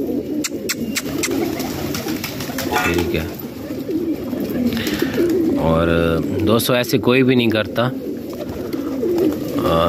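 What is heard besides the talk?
pigeons cooing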